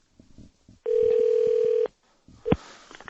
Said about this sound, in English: Let's give him a ring at work.